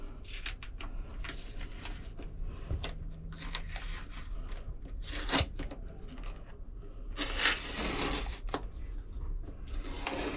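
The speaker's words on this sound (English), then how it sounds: "I'm just going to start peeling the tape off now" Masking tape peeled from a boat surface after Sikaflex mounting of storage pockets, with intermittent close tearing and ripping strips, a couple of louder pulls standing out.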